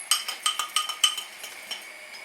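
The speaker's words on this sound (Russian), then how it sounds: "Сейчас я размешаю хорошо крахмал." A spoon stirs starch for a strawberry sauce, clinking quickly and repeatedly against the side of a dish in a rapid run of bright metallic taps that fade toward the end, close and with no voices.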